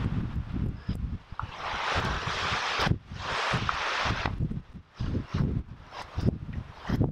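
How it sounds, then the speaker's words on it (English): Strong gusts of wind buffet the microphone on the Grand Canyon's Hermit Trail, roaring in surges that drop out briefly between blasts, with soft footsteps or scuffs in the lulls. "Windy, as you could probably tell."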